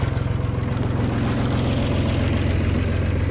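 A tractor engine idles steadily in a garden before rotavating, a loud continuous low rumble with an even pulsing throb and no talk.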